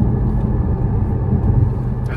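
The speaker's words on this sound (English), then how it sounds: "I think it would absolutely decrease the road noise" Cabin road noise inside a Porsche Cayman GT4 on factory Michelin Cup 2 tyres, a deep, constant tyre rumble and drone with a low engine hum underneath.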